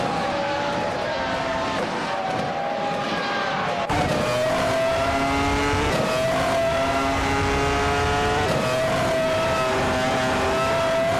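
Formula One cars from the 1996 season race around Hockenheim in a video game, several high-pitched engines whining and shifting pitch together, loud and continuous with gear changes marking sudden drops in tone.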